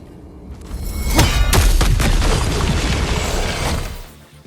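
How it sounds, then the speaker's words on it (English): In God of War Ragnarok, a thrown Draupnir Spear detonates against a cracked object, giving a heavy boom and a rolling, rumbling burst with shattering debris. It holds for several seconds, then fades. "you can break any object with these glowing gold cracks on it by throwing the spear at it, and then pressing triangle to detonate it"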